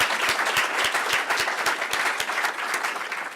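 A round of applause from an audience at a film screening, a dense patter of many hands clapping at close range, steady throughout with no voices over it.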